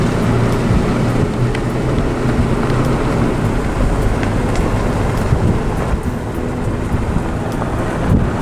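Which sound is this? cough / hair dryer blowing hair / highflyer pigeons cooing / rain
rain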